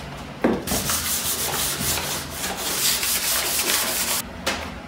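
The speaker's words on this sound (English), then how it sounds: "now I'm just doing the final fine sanding with the brown paper bag" Steady rhythmic rubbing of a brown paper bag against a vintage wooden cabinet, a dry scratchy swishing repeated in quick back-and-forth strokes, close up with no talking.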